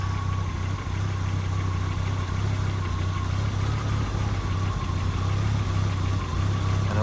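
A rich-running Audi UrS4 engine idles roughly with a steady, low, vibrating drone and faint uneven pulsing, heard close and alone the whole time.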